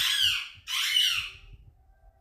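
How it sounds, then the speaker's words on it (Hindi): A pet parrot gives two long, loud, harsh squawks in quick succession, close by, followed by quiet room noise. "इस तोते पे मुझे इतना गुस्सा आ रहा है ना, शांति रहने नहीं देगा।"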